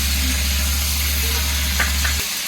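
Chalta fruit frying in a pan for a Bengali-style sweet and spicy pickle, giving a steady sizzle over a constant low hum, with a brief clatter near the end.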